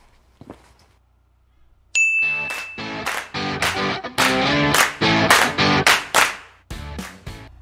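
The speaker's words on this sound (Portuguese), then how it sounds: "Roda essa vinheta." A bright electronic intro jingle with ringing, bell-like chime notes plays loud and clear after a brief quiet start, a series of rhythmic clangy hits building into a short musical sting, with no talking.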